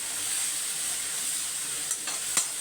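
Ground garlic paste, blended with pepper, cumin and tomato, sizzles steadily in hot sesame oil, a loud, even frying hiss with a couple of light stirring scrapes near the end.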